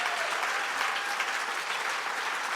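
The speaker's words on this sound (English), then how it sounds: "She deserves a round of applause." Steady, dense applause from an audience at an awards event, many hands clapping evenly throughout without a break.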